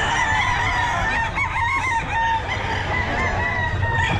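A Sweater gamefowl rooster crows loudly and close at the busy Bocaue pet market, a long drawn-out call over clucking and a noisy crowd.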